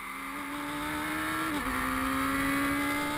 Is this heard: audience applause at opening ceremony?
no